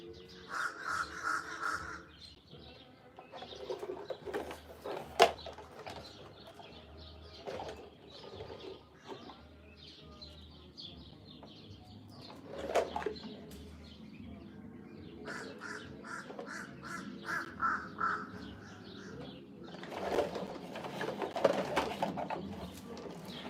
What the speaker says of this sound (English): I'm just mesmerized by these crows